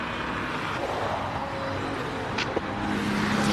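Nissan R32 car climbing the Simola hillclimb course, a steady broadband engine and road roar held at constant level for the whole stretch, fairly loud with a sharp brief pop partway through.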